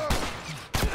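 Gunfire in The Last of Us Remastered: two sharp, loud shots about three-quarters of a second apart, each a broad booming crack with a short decaying tail.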